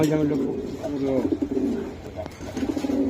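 Racing pigeons coo in soft, repeated throaty calls close by, while people talk over them throughout.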